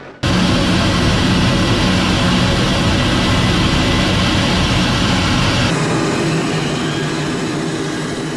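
A Lockheed Martin F-35 Lightning II fighter jet engine roars at full power during takeoff, a loud, continuous, broad rumble with a rushing hiss that holds steady for several seconds, then eases slightly.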